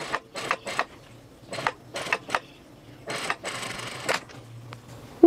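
A home sewing machine restitches a shirt seam in several short, close whirring bursts separated by pauses, with one longer run near the middle.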